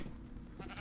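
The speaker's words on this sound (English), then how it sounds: "Sheep." A Minecraft sheep lets out a brief bleat over a low game background. The single call is quick and fairly soft.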